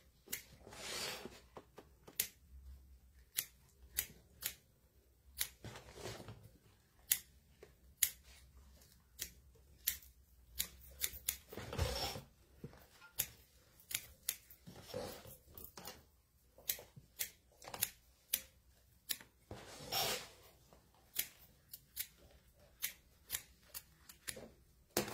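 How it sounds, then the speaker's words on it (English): Scissors snip away excess acrylic padding around a machine embroidery hoop, a long series of sharp, close cuts in an irregular rhythm with short pauses between bursts, no voices. "So now we're going to take the hoop out of the machine and cut the excess of the padding."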